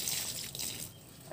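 Old water pours out of a chicken drinker in a backyard chicken farm, a short faint trickling splash lasting about a second, heard alone.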